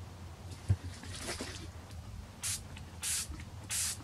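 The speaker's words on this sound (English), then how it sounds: "I'm going to give it a little quick spray over there." A few short bursts of pastel fixative aerosol spray hiss close by, one longer spurt followed by three brief, evenly spaced puffs over a faint low hum.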